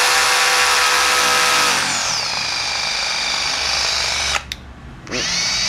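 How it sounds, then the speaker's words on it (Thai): A Makita HR006 40V cordless rotary hammer drills loudly and steadily up close, its whine dropping in pitch after a couple of seconds, then cutting out briefly before spinning up again. "สามารถปรับรอบให้เจาะแบบเบาๆได"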